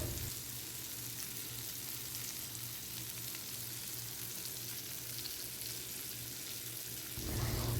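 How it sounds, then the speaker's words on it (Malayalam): Prawns shallow-fry in hot coconut oil, a steady, even sizzle close by that holds for several seconds before a louder rustling burst at the end. "ഈ കൊഞ്ചെല്ലാം നമുക്കൊന്ന് ഷാലോ ഫ്രൈ ചെയ്തെടുത്താൽ മതിയാവും."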